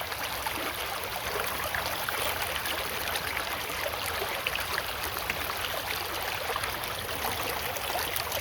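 A gold dredge works in a creek, with water steadily rushing and pouring out of its bucket in a continuous, fairly faint wash and no voices.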